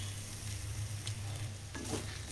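Fried prawns go into a spiced mixture of salt, sugar and chilli powder and sizzle steadily in hot oil. A constant close frying hiss, with a few stirring scrapes near the end and no talking.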